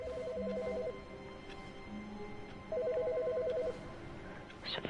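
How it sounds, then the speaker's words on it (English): A phone rings in The Stanley Parable video game, two bursts of a trilling electronic ring separated by a pause over a low room hum, close and clear with no talking. "Is the phone ringing?"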